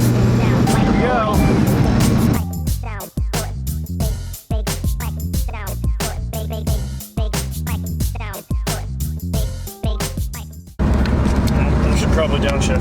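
Porsche 944 with a swapped 07k five-cylinder engine driving on a bumpy, frosty mountain road, loud engine drone that drops away and returns while the driver talks over the lulls.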